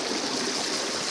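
Water runs through a gravity-fed hose siphon draining a fishpond, giving a brief, steady hissing and trickling rush.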